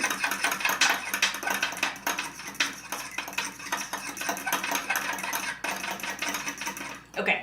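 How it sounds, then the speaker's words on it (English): An egg is whisked briskly in a bowl, making rapid, continuous clinking and tapping for several seconds, close by and fairly quiet. "Egg whisking time!"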